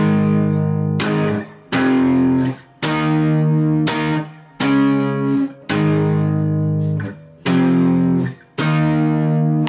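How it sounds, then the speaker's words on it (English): Acoustic guitar part from a song, played as strummed chords in separate phrases with brief gaps between them, clear and up close with no talking. "It starts off with like the acoustic guitar part, which sounds like this."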